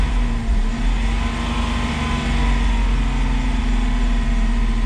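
A restored Datsun's engine revving steadily and loud at close range, a continuous rough drone with a low rumble and no voices.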